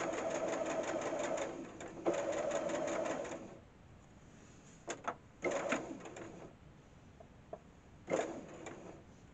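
A sewing machine runs in short stitching bursts while a five-point star quilt seam is sewn, with a couple of quick forward-and-back stitches and pauses between runs. The whirring is close and fairly quiet, with light handling clicks in the gaps.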